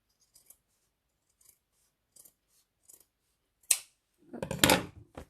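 Scissors snip through fabric while sewing bias binding for a needle holder, a few faint quiet snips followed by a louder burst of cutting and rustling near the end.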